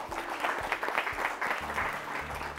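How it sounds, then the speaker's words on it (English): Audience at a national school quiz competition clapping together, a steady burst of applause lasting a few seconds with faint talk underneath. "Let's clap for them as well."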